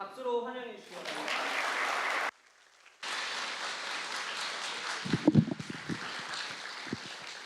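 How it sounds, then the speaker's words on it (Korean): A church congregation at a Sunday worship service claps to welcome a newly registered family, a speaker's voice at the start, then steady applause broken by a brief pause, with some close thumps and handling noise near the end. "박수로 환영해 주시기 바랍니다"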